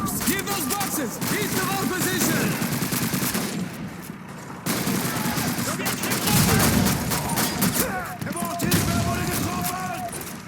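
Submachine gun fire in the World War II shooter game Call of Duty 2, loud rapid bursts of automatic shots mixed with battle noise, with someone talking over much of the gunfire.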